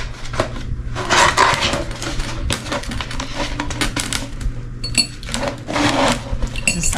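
Small craft pieces poured through a rolled Cricut cutting mat into a glass jar, a loud continuous clattering and tinkling of bits striking glass and plastic, with a few brighter clinks toward the end.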